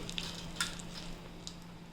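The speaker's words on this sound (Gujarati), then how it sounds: "આ બાજુ જરા પવા છે ને તળાઈ જાય છે" Poha, flattened rice, frying in hot oil, a soft steady sizzle with a few sharp crackling pops and light stirring clinks, close and quiet.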